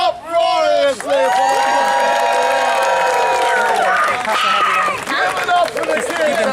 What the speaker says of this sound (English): this mob applauds uproariously